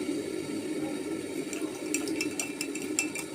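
Water poured into a quarter-filled glass in a home kitchen, a steady close trickle with brighter splashing toward the end, no talk over it.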